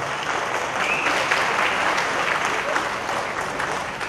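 An audience at a Kuchipudi arangetram dance debut claps together in sustained, dense applause, loud and steady throughout with no pauses.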